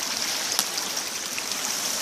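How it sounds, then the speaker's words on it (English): A small stream runoff flowing down a brook toward Glen Falls, a steady close rushing babble of water with no voices, continuous and even throughout. "this is actually a stream runoff that leads down to Glen Falls"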